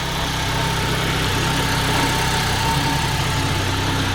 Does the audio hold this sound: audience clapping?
no